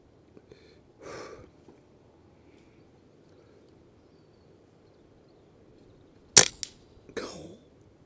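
A Brocock Ghost .177 air rifle fires outdoors on a windy day, one sharp close crack standing out against quiet breezy background, with a few soft thuds and rustles around it.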